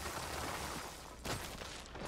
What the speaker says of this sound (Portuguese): tem um disparo rápido